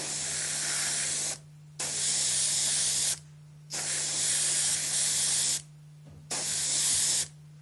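Four short bursts of airbrush spray hiss as white paint is sprayed onto an HO scale model, each about a second long with brief pauses between, over a constant low electrical hum.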